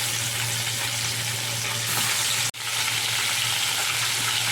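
Fish sizzles steadily as it fries in a pan in a home kitchen, a continuous crackle with a low hum beneath it. There is one brief break partway through.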